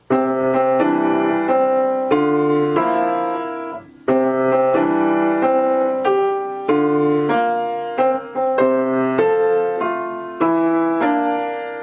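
Solo piano plays a steady broken-chord accompaniment in a lilting three-beat waltz feel, notes rolling evenly with a melody on top.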